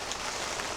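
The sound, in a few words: rain falling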